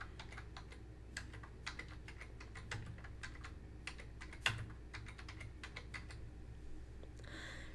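Keys clatter on a computer keyboard in quick, uneven bursts of close, quiet clicks, a steady run of typing with no talk over it.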